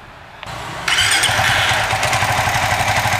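A Suzuki FU 150 fuel-injected motorcycle engine cranks briefly and catches, then settles into a steady, close, loud idle with a rapid even pulse and no talking.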